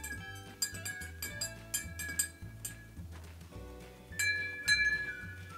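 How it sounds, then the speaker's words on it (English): A metal spoon stirs blue food coloring into a glass of water, clinking repeatedly against the glass in quick, ringing taps with short pauses, close and clear. "You're gonna use a spoon to mix the food coloring completely in."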